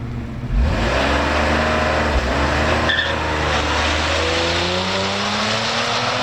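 An Audi SQ5 with a Stage 1 91-octane engine tune and transmission tune launches down a quarter-mile strip, its loud engine note climbing through the gears with shift breaks as it pulls hard and close.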